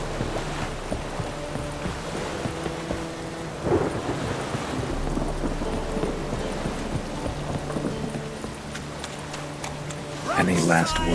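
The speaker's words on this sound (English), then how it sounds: "Storm, damn it." Thunderstorm with steady rain in The Witcher 3, a dense continuous wash of rainfall with a low rumble of thunder swelling near the start and again at the end, a few faint hoof-like clops mixed in.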